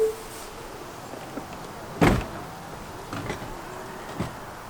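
Doors closing on a Tesla Model X, including the Falcon Wing doors: a quiet hum of motors, then one firm thud and a few softer clunks and clicks in a calm setting.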